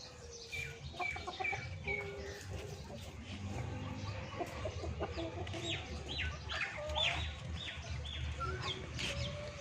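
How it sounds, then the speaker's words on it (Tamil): Chickens tied up around a home garden near a mango tree cluck and squawk in irregular bursts, several birds calling close by over low background noise. "கோழியெல்லாம் அங்கங்கே கட்டி போட்டு வச்சுருப்போம்."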